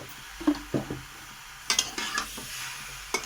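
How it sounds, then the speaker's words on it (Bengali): Carambola pickle with salt, cumin, coriander and black pepper powder is stirred and fried in a pan, with soft sizzling under several sharp spatula scrapes and clinks that come at uneven intervals. "হালকা করে শুধু মশলাগুলো দিয়ে এটাকে একটু কষে নেব।"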